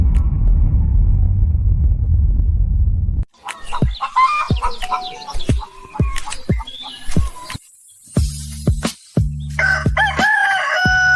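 A rooster crows loudly and close in a barnyard setting after a low rumbling stretch, followed by several sharp crowing calls and clucks with brief pauses, a vehicle-like rumble returning between them.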